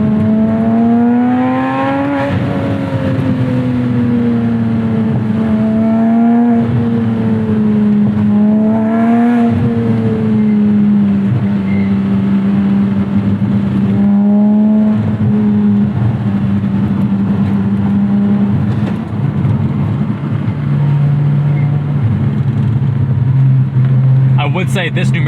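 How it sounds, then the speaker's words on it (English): A Porsche Boxster Spyder engine revs up sharply in a series of throttle blips on downshifts, loud and close, the pitch climbing and falling between gear changes and settling into a steady drone near the end. "Such delicious downshifts."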